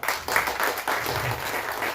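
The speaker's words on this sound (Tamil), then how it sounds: "அதுக்கு மிகப்பெரிய கைத்தட்டலை கொடுக்கலாம்" An audience breaks into loud, dense applause at a Tamil-language stage event, a continuous close wash of many hands clapping that holds steady for the full stretch with no talk over it.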